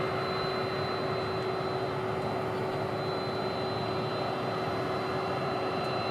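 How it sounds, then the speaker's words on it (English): A Boeing 767 jet arriving from Miami at DFW International Airport gives a steady, unbroken engine drone with a constant whine, heard at a distance and filling the whole stretch without talk. "So this just came in, this 767 in from Miami"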